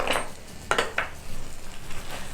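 A utensil stirs a sausage, onion and brown sugar mixture in a pan, giving a few close scraping clinks against the metal over a faint, steady sizzle.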